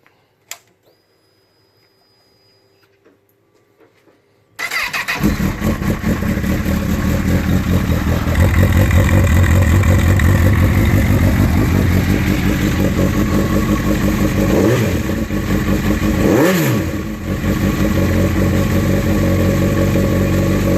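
Honda CB1000R motorcycle fitted with an SC-Project oval carbon exhaust, new parts, sits quiet until the engine fires at around five seconds. It then settles into a loud, close idle with a couple of brief throttle blips.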